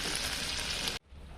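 Paturi fish wrapped in leaves frying in a covered pan: a steady, dense sizzle for about a second, then it drops sharply to a softer, quieter crackle.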